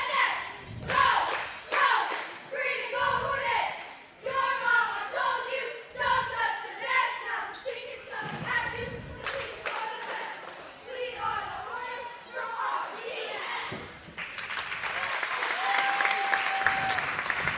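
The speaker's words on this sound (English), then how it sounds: "We'll see the Rome cheerleaders do their opening cheer." Rome Hornets cheerleaders performing their opening cheer at a junior high boys basketball game against Woodlawn, with rhythmic claps, stomps and shouted chanting in a gym, then broad crowd applause swelling near the end.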